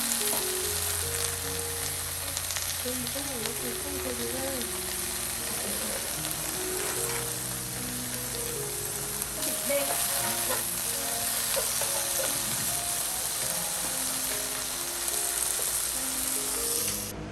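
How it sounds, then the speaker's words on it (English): Fresh spinach stir-fried in a pan, a loud continuous sizzle with intermittent clinks and scrapes of the utensil tossing the leaves, steady throughout and free of speech. "Finally, quickly stir-fry the spinach to keep its fresh green color and nutrients."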